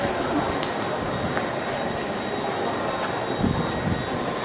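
A steady rumble of a London Underground train idling at a platform, broad and continuous, with faint station noise and a few soft knocks near the end.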